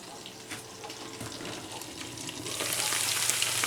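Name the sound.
potatoes frying with onions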